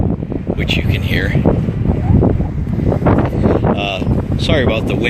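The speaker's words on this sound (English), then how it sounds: "Sorry about the wind noise." Strong, steady wind gusting across Clearwater Beach, Florida, the day after Hurricane Irma. It is a constant, loud buffeting rumble into the microphone, with a person talking over it throughout.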